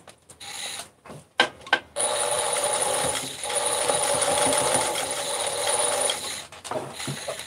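A Singer Plus sewing machine stitches in a home, with a few short mechanical clicks and stops before a steady, close whirring run of several seconds that fades out briefly and then resumes.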